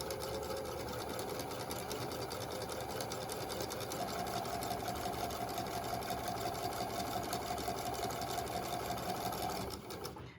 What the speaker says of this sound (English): And then we're just going to stitch straight down the fabric.